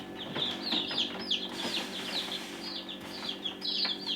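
Newly hatched chicks lifted from an incubator cheep in high, rapid peeps, several overlapping at close range in a steady busy chorus with no talk.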